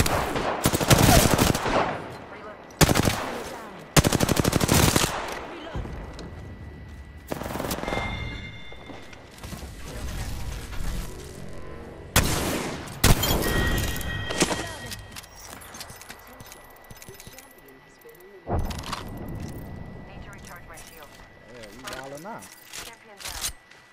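Bursts of automatic gunfire in the Apex Legends battle royale game, several loud rapid volleys separated by pauses, with a player talking over the action.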